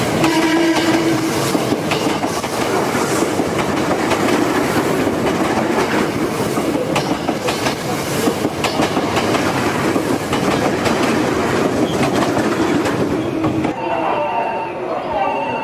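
A JR commuter train rumbles steadily into a Japanese station platform in 1998 with clattering wheels and a continuous roar, while a Japanese public announcement voice speaks over it.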